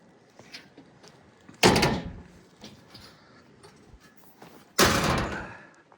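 A metal Bilco bulkhead basement door closes with two heavy metallic thuds a few seconds apart, each decaying with a resonant rumble, between quieter creaks and small knocks.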